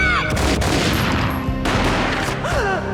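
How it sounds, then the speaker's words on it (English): A rapid fusillade of gunfire erupts in the video game Max Payne, several sharp, loud shots in quick succession over a busy game soundscape. "A gunshot boomed and she fell down in slow motion"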